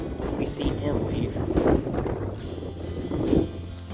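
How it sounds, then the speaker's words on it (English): Strong wind buffets across an open hillside during rifle season, arriving in gusty rumbling surges against the microphone, with a voice faintly mixed into the blustery roar. "It's really windy."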